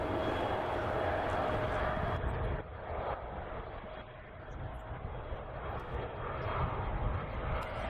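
Southwest Airlines jet airliner arriving at San Francisco Airport, a steady broad engine roar with a faint high whine that dips briefly and then swells again, heard from a distance outdoors.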